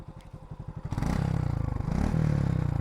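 Suzuki Gixxer motorcycle with stock exhaust, a close pulsing idle that rises into a louder, steadier rev and holds with slight pitch swells.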